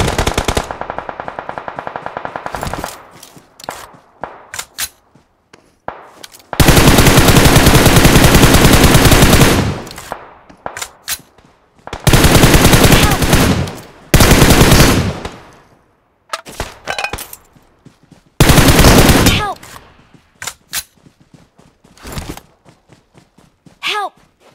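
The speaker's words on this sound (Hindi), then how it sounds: "सामने बंदे की गन फायर की आवाज़" Automatic gunfire in the mobile battle royale game BGMI comes in loud, sustained bursts separated by short pauses, with quieter shots, footsteps and movement noises between the volleys.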